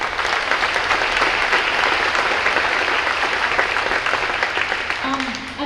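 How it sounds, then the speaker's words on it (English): An audience at a school spring pops concert claps steadily for a singer, a dense, even round of applause that runs throughout and fades slightly at the end. "So we can give a round of applause if you're watching at home to Naomi Martinez."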